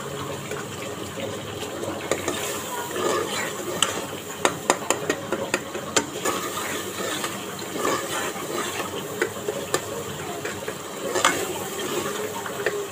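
Masala for dhaba-style daal mash roasting on a high flame, with a busy crackling sizzle broken by repeated sharp spoon scrapes and taps against the pan.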